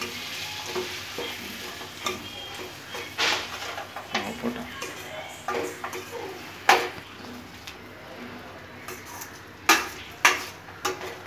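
Flattened rice (aval/poha) upma being stirred in a pan with a spoon, giving scraping, clinking strokes over a soft steady sizzle, with a few louder knocks against the pan.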